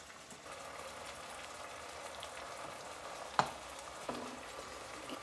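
Shrimp frying in a pan give off a faint, steady sizzle, with a single sharp clink and a softer knock partway through.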